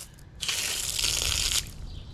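A steady rush of water flows from a valve for about a second, then cuts off sharply, leaving a low background hum.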